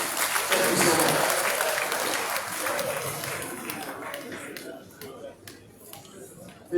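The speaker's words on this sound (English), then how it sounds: "Round of applause for them." Audience applause fills a hall at a Nigerian Army end-of-year dinner party, loud and dense at first, then thinning and fading toward the end, with a few scattered claps standing out.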